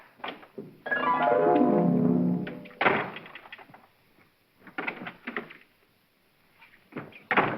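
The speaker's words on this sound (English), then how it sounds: "Doors just don't open and shut themselves." An indoor door in a 1941 comedy film scene opens and shuts, with a few thunks and clatters spread across the clip, alongside a stretch of music-like tones and some brief talk.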